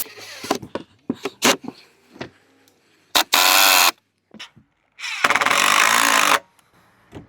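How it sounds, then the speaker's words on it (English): A power drill drives screws to fasten boards for a 7x7 backdrop wall, with two long, loud, close whirring bursts between clattering taps and short knocks as the pieces are handled. "Now that I have my board clamped up, I'm going to screw everything together"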